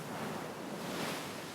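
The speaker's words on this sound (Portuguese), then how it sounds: "Um paraíso delimitado pelo quebrar das ondas." Pacific Ocean waves break on a Hawaiian shore, a continuous broad wash of surf that swells slightly midway, steady and enveloping with no voices.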